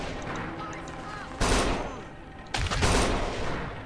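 Two heavy shotgun blasts sound in Kane and Lynch 2: Dog Days, loud and close, about a second apart, each trailing off in a noisy tail.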